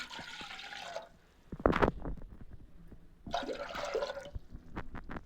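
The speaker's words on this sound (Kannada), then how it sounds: "ಕುಕ್ಕರ್ ತೊಗರಿ ಕಾಳು ಬೇಯಿಸ್ಕೊಳ್ಳೋಕ್ಕೆ ಒಂದು ಎರಡು ಗ್ಲಾಸ್ ನೀರು ಹಾಕ್ತಾ ಇದ್ದೀನಿ" Water splashes and pours into a metal pressure cooker in two separate bursts, about two glasses for cooking fresh pigeon peas, with clinks and knocks of a container between them.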